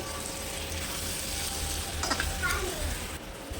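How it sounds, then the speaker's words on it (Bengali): Boiled potatoes fry with spices in a pan for ghugni, producing a soft, steady sizzle with occasional stirring scrapes, fairly quiet and close. "এবার সেদ্ধ করে রাখা আলু দিয়ে দেবো আলুটা দিয়ে মশলার সঙ্গে ভালো করে কষিয়ে নিব"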